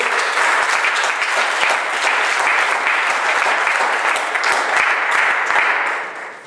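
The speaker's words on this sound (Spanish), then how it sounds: "Denle un aplauso al Señor en esta noche." A church congregation claps together during an evening worship service, a broad, even wash of applause that holds steady for several seconds before fading away at the end.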